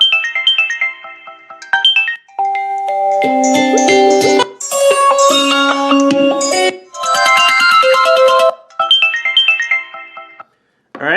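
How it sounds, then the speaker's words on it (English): A cheap MTK6572-based Galaxy S5 clone phone plays its voice-call ringtone loud and close: a bright, busy electronic melody with layered tones that sweep and drop out briefly near the end before resuming. "Voice call ringtone."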